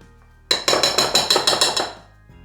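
Spoons knocking against a mixing bowl while a pistachio tiramisu cream is spooned in: about nine quick, bright, ringing clinks in a steady rhythm, close and clear with no talking, then quiet.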